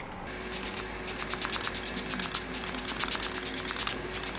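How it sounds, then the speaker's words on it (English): LA Girl hydrating setting spray misted onto a face in a rapid run of short, hissing spritzes, close and fairly loud, with no talking. "So I'm just going to set my face using my LA Girl setting spray."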